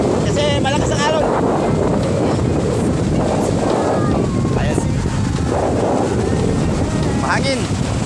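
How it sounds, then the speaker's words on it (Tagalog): Strong wind buffets the microphone on a beach during rain, with big ocean waves rumbling in a constant dense roar and a person speaking briefly over it. "Mahangin. Mahangin. Malakas ang ulan. Ang alon. Malalaki."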